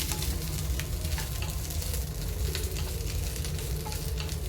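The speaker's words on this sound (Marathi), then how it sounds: "भेंडी भाजून घ्यायची आहे थोडी" Okra frying in hot oil in a pan gives a loud, continuous sizzle with a dense crackling hiss that holds steady throughout, with no talking.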